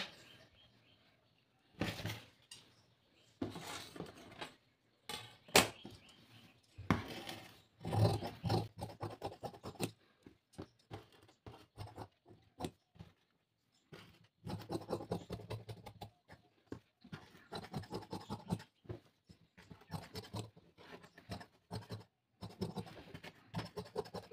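Scissors snip through blouse fabric on a cutting table in a series of close, dry crunching cuts, irregular in rhythm with short pauses between runs, alone without talk.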